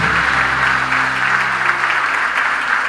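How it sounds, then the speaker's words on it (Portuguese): Loud, continuous applause from a church congregation, dense clapping throughout about three seconds, with a faint sustained tone under the clapping. "aplaudindo bem forte por Deus."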